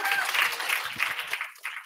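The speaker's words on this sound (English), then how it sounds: "Applause for Julia, please." An audience at a Python meetup applauds briefly, a dense, fairly close patter of clapping that fades within two seconds.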